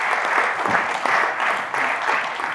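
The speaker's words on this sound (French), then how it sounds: "Est-ce qu'on peut applaudir pour Godefroy?" Audience applauding author Godefroy after a reading from his novel about the history of Congo, dense sustained clapping close and loud, with a few voices mixed in.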